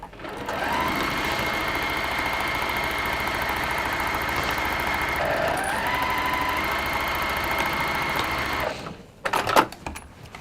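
Sewing machine stitching fabric at speed, a close, steady mechanical whir with a rapid rhythmic hum for about nine seconds, then stopping with a few clicks and rattles.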